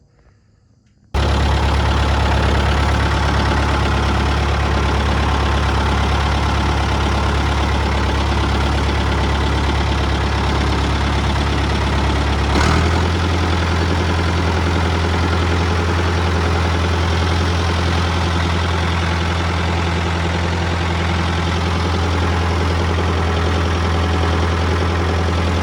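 A farm grain handling machine starts up and runs empty with a steady, loud, low mechanical drone that holds for over twenty seconds. A slight shift in pitch and load partway through leaves it humming on, with no talk over it.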